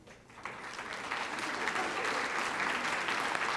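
Audience applause at a school district State of the District event as community leaders and district partners stand, a broad steady clapping that swells after a brief quiet start and holds loud throughout.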